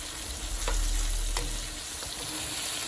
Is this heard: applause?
no